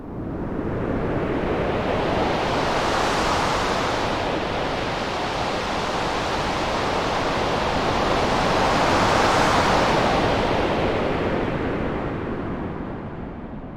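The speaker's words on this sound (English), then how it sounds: "Today we're going to be making wind in Sytrus." Stormy wind synthesized in Sytrus in FL Studio, a dense roaring rush of noise that swells and sweeps in broad gusts, loud and continuous throughout with no voices.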